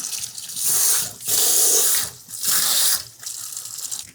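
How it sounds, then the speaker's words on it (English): Salted cabbage for kimchi is rinsed under a running tap in three loud hissing bursts of water separated by short pauses, close by and without speech. "You want to rinse it so you can eat it because you don't want to make outrageously salty kimchi"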